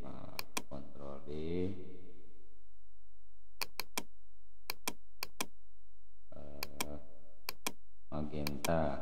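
Keyboard shortcut keys pressed during color separation work for screen printing, heard as sharp isolated clicks in small clusters, spaced out across the clip and alternating with stretches of nearby talk.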